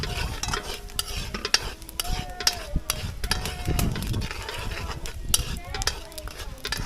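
Shrimp stir-frying in 100% coconut oil outdoors in Kingston, Jamaica, with a steady busy crackle and scraping stirs throughout, plus a few clanks and some faint talk in the background.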